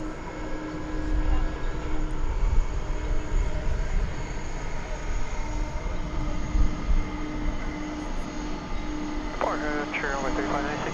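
A jet airliner departs DFW Airport at night, its engines giving a loud, steady, broadband roar that fills the whole stretch without letup.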